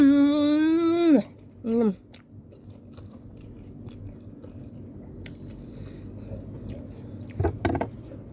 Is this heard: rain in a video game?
no